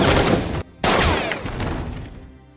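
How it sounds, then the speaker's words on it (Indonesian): A burst of rapid gunfire in an action-film shootout inside a warehouse, loud and dense, cutting off abruptly for a beat before a second volley erupts and then rings out into a fading reverberant tail. "lalu terjadilah aksi tembak-tembakan"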